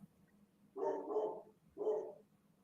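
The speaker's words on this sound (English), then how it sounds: "Sorry about my dog." A dog barks a few times nearby, short muffled woofs in quick succession against a quiet background.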